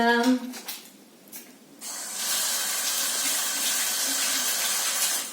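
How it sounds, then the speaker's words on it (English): Kitchen tap running as hands are washed under the water, a steady close splashing hiss that starts after a brief voice and continues unbroken. "I'll wash them again just to make sure that everything is very clean."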